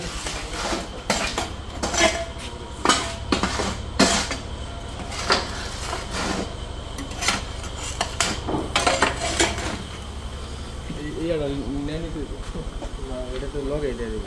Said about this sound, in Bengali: Vibrate semi auto machine.